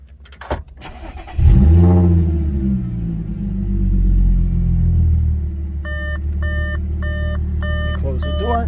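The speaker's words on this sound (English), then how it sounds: "I'm going to start the car up for you guys." A 2013 Audi S4 with an APR dual pulley cranks and fires up with a loud starter burst, settling into a deep rumbling idle, while a repeating chime beeps inside the car toward the end.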